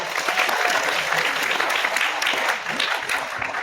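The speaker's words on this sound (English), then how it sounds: "big round of applause for Batman." A crowd claps and cheers in steady, dense applause that continues at full strength throughout, with a faint voice mixed in.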